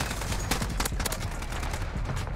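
An AN-94 rifle fires in Modern Warfare, a busy clatter of quick overlapping shots and impacts in close game combat, loud and continuous throughout.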